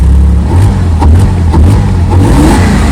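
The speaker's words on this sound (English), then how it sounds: "the coolest sound on this car is right from the air intake right there. You just give it a little throttle." A 2000 Porsche Boxster S with over 200k miles revs briefly at the air intake, a loud close droning engine note with a few short throttle blips over a steady low rumble.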